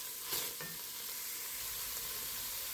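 Two tablespoons of butter sizzle steadily in a pan as the base for a clam and scallop chowder, a soft continuous crackle with a brief stir near the start.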